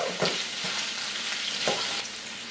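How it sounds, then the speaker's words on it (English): Shrimp sauté with butter and garlic in a pan, a close, steady frying hiss broken by a few spatula scrapes as everything is stirred around. "We'll mix all this around until the shrimp is nice and pink."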